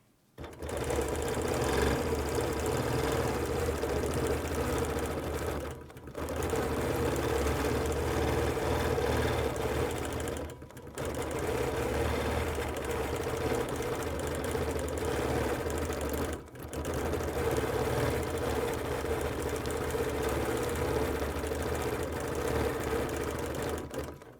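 A Q20 sit-down quilting machine stitches a pantograph in steady, fast mechanical bursts, its rhythmic whirring and needle chatter running loud and close, pausing briefly several times between runs.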